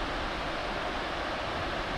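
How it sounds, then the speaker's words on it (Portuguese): Water pours over the spillway of the Prata dam in Bonito, Pernambuco, after it overflowed with heavy flow, a steady broadband roar of rushing water with no change across the span. "Vertendo aí, ó. Bastante água,"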